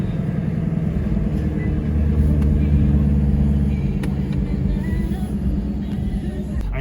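A 2017 Chevrolet Camaro Fifty engine and exhaust rumble in a steady, deep drone from inside the car, holding low and even throughout with slight swells in loudness.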